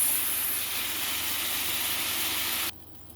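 Fresh tomatoes cooking in a frying pan for spaghetti sauce, a loud steady steamy hiss that cuts off abruptly near the end, leaving quiet, with no one talking.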